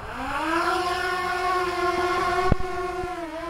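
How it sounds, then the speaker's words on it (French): A DJI Mavic Air drone's motors spin up close by, a rising tonal whine that climbs in pitch and settles into a steady buzzing hum with a few faint clicks. "Voilà, les moteurs démarrent et là il n'y a plus qu'à mettre les gaz."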